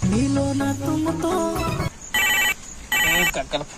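A phone ringtone sounds in two short, bright bursts with a brief gap between them, following a stretch of music and voices.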